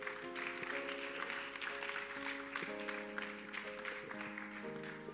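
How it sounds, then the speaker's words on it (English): A conference audience at a singles event applauds as performers walk on stage, a soft continuous patter of clapping over held keyboard chords, moderately distant and even. "Please let's clap for them as they come on stage."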